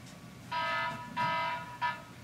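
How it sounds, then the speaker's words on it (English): A buzzer-type alarm sounds in three short, loud tonal blasts over a low background hum, the last blast clipped shorter than the first two. "Set off the alarm."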